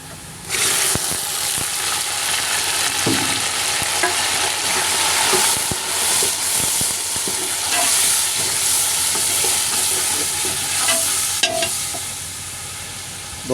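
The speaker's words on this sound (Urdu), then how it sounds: "لہسن ادرک دا پیسٹ شامل کرنے۔" Garlic ginger paste being fried and stirred with onions in hot oil for a cauliflower and potato curry, a loud steady sizzle with scraping stir strokes throughout, no talking.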